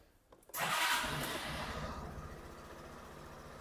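After a brief click, a 2025 Suzuki Access 125cc scooter engine starts with a sharp burst, then settles into a steady, fairly quiet idle rumble.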